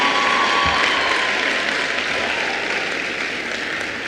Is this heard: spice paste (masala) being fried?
no